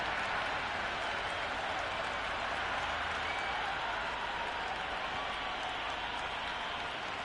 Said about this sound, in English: It's evident and ever so audible that the crowd is at near bursting point